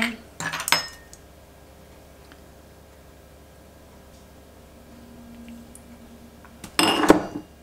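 A spoon clinks and scrapes against a bowl while pork marinade with olive oil is stirred, two short bursts of clatter at the start and end separated by a quiet pause.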